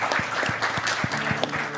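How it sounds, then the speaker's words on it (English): Brief round of applause from a theater audience at a panel session, moderate and steady with a low hum underneath. "So nice round of applause from those here in the audience"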